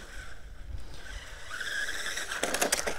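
A Pinecone UDIRC 1605 Pro mini 1/16-scale RC car drives along, its small motor giving a steady, faint electric whine that rises in pitch and grows louder toward the end, with a brief burst of scrabbling tyre noise.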